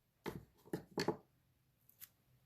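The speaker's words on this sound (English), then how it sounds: "So I would probably cut this in half" Scissors snip through a sheet of paper during card making, three quick close cuts in a row followed by a fainter fourth snip, with no voices.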